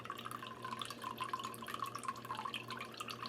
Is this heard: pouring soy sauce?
yes